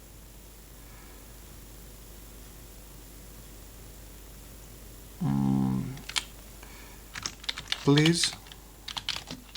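Computer keyboard typing up close: a steady burst of rapid key clicks, then a pause and a few more scattered keystrokes, with a brief spoken word in between over faint background hiss.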